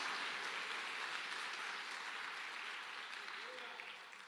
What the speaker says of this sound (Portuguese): Bate palma e diz obrigado, Jesus